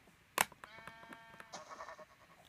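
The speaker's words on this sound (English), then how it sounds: "Look at the sheeps in this texture pack, guys." Sheep in a Minecraft world bleat with a sharp burst followed by a drawn-out, wavering call, close and fairly loud, with no talk over it.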